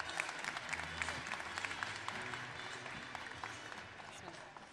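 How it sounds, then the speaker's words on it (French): An audience applauds steadily, a dense wash of many hands clapping at once, heard somewhat distant with voices murmuring underneath. "qu'on l'applaudisse très fort"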